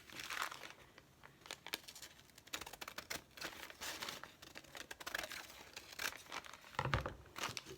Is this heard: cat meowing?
no